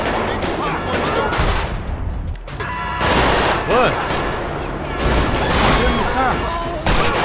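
Repeated bursts of gunfire crackle through a street shootout in Grand Theft Auto V, loud and rapid, overlapping with shouting voices and brief gaps between volleys.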